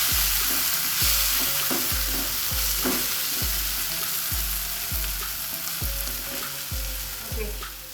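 Kashmiri chilli powder and coriander powder sauté in a hot pan while bitter gourd masala is cooked, giving a steady loud sizzle broken by regular scraping strokes of a spoon against the pan, about one every half second.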